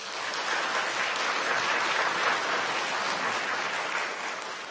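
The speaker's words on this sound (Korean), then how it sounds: "여러분들 환영의 박수 부탁드립니다." Warm applause from a Korean church congregation during a Sunday Christmas Eve service, welcoming a young member home from studies abroad; a dense, even wash of clapping that swells slightly and holds steady, without talk over it.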